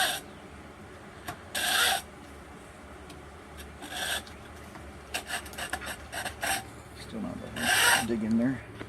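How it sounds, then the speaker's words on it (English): Hacksaw scoring a wooden Native American flute blank by hand, giving a few separate rasping strokes in short bursts with pauses between them, close up and moderately loud, with no talking. "We're going to score it with our hacksaw."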